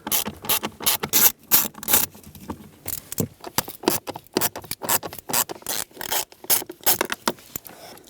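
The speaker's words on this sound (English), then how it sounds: "Unthread all 3 bolts." Screws on a 2010-2017 Chevrolet Equinox blower motor being backed out with a Phillips screwdriver or 1/4 inch socket, giving close, repeated scraping ratchet-like clicks and scratches in irregular bursts with short pauses.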